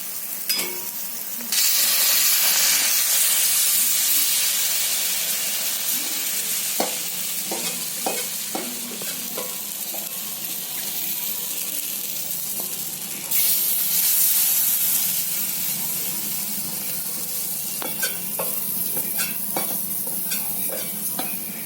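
Gram flour dhirde pancake frying in a little oil, with a loud, steady sizzle and hiss throughout, swelling after flipping, and occasional scraping clicks from a spatula, close and with no talk.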